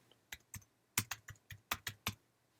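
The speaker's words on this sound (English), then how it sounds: "I'm going to type in the address that I'm going to send my test email to." Computer keyboard typing: about ten sharp, separate keystrokes in an uneven rhythm, close and fairly loud, with no voices.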